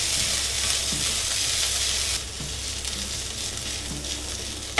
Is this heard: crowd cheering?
no